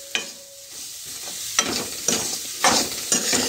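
Onions, green onion, green chilies and ginger sauté in a pan, with a spoon scraping through them in several distinct strokes over a light sizzle, close up and without speech.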